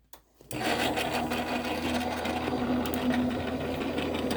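After a brief quiet start, a sewing machine stitches fast and steadily up close, a continuous whirring drone with a rapid needle rhythm that runs without pause.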